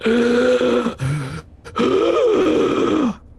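A voice imitates the gurgly, distressed breathing of a badly wounded person during a tabletop roleplaying game, with drawn-out groaning rasps broken by a short pause, loud and close.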